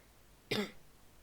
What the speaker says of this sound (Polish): Przy okazji jeszcze sobie kaszlnąłem.